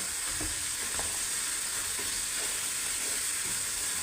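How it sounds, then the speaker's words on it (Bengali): Mutton sautéing with Kashmiri chili powder, salt and spices for Kashmiri mutton rogan, a steady dense sizzle and frying hiss with faint occasional stirring scrapes, close and continuous. "এখন আর আমি কিছুই দেবো না এটাকে সুন্দর করে কষিয়ে নেব"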